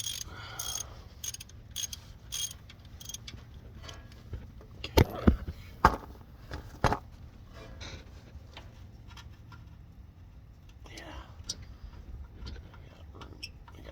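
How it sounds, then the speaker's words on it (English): A ratchet loosens the starter bolt on a Ford E350 with a 6.8L V10. Quick bursts of close clicking come first, then a few louder knocks and scrapes, then quieter intermittent ratcheting. "the ratchet on it. So we're gonna go ahead and continue removing this bolt."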